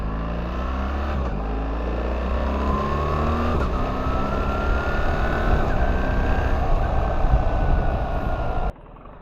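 A BMW on a test drive, its engine droning steadily and building slightly as it revs, loud and close from inside the car for about nine seconds before cutting off abruptly.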